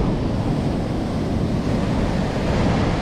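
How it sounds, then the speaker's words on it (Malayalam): Sea waves roll onto a beach at Kozhikode, a loud, continuous rumbling surf mixed with strong wind buffeting the microphone, steady from start to finish with no voices. "എത്ര നേരം നോക്കിയിരുന്നാലും മനമടുക്കാത്ത ബീച്ചിലെ തിരമാലകൾ"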